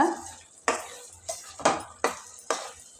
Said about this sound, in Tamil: மீடியம் ஃப்ளேமில் வச்சுக்கிட்டு கிளறிக்கிட்டே இருங்க அடி பிடிச்சிடும்